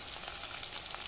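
Chopped onion and dried chili frying in hot oil for a curry, a dense, steady close sizzle without pauses and with no talking.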